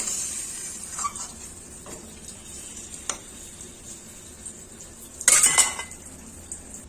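A lid goes onto a cooking pot of potato and soybean curry with a sharp metallic clatter near the end, after a few faint clinks and light kitchen noises over a soft simmering hiss.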